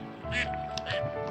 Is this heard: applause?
no